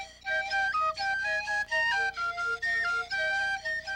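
Bright, breathy panpipes and penny whistle play a lively Russian folk melody in a series of short, continuous phrases, with clear high notes and no singing.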